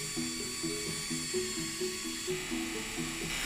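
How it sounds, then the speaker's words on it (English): Electric drill fitted with a sanding pad working the bottom face of a hardwood bowl, a high whining motor with a pulsing, repeating rhythm as the pad bears down, close and steady. "Then I could use the drill pad to sand the bottom face of the bowl."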